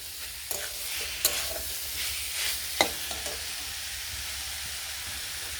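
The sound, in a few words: rajma frying with masala in a pan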